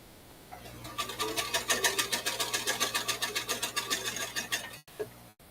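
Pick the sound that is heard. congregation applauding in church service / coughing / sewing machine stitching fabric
sewing machine stitching fabric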